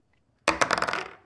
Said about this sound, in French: Je lance les dés pour toi, Claudine